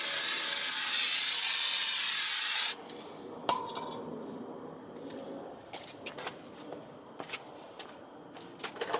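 Brake cleaner sprays onto a front brake rotor of a 2013 Lexus IS250 in a loud, steady hiss that stops abruptly after a few seconds, followed by quieter rubbing, clicks and handling noises nearby.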